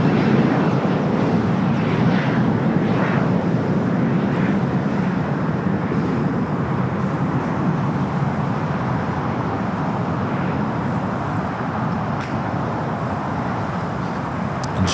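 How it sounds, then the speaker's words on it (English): A Lufthansa Boeing 787 Dreamliner arriving at LAX in 100th anniversary livery, heard as a loud, steady broadband jet roar that holds throughout with little change. "we wait for the Lufthansa Dreamliner Flight 450 in the 100th anniversary livery up next here on the south side."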